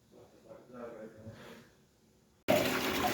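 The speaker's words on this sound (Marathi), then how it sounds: "तर मस्त की आपण पाणी टाकीत भरत आहे." Water gushes into a household storage tank, a sudden loud, steady rush bursting in at the end after a stretch of quieter room sounds with people talking.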